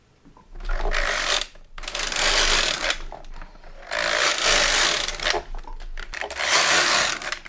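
A knitting machine carriage is pushed back and forth across the needle bed with working yarn, making four loud rasping clattering passes separated by brief pauses.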